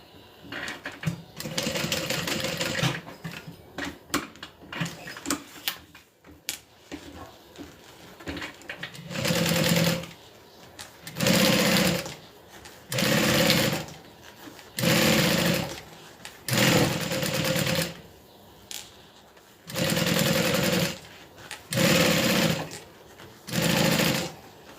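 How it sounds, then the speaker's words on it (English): A sewing machine stitches a tote bag in a series of loud whirring bursts, each lasting a second or two and separated by short pauses, the bursts growing more regular toward the end with light handling noise between. "let's get this sewn up."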